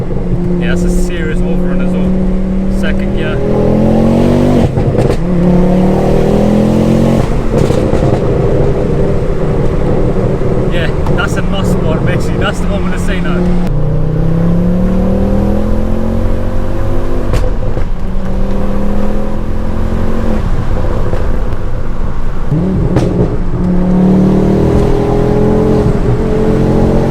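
Ford Focus RS MK2 pulling hard through second gear, a steady loud engine drone with rising pitch sweeps as it accelerates, heard from inside the cabin with windows down, and speech over it at times.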